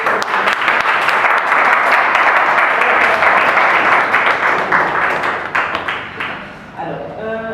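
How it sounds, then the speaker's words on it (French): Wedding guests applaud together in a steady, loud burst of clapping that runs for several seconds, then thins out toward the end as a voice begins speaking. "Applaudissements pour le futur mariage."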